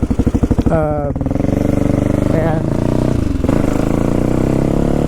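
A kickstart-only motorcycle engine fitted with an electric start turns over with a brief churning crank and catches into a loud, steady idle with occasional revs, close by, with a short spoken word early on.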